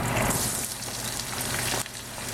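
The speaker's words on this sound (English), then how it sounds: "Then we're gonna cook the 2 cups of onions" Chopped onions fry in a pan after bacon, for a Chinese beef chili, giving a steady, dense sizzle with a brief dip near the end.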